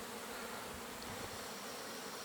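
Steady, dense buzzing of many bees, continuous and fairly close, with no pauses and no other sounds.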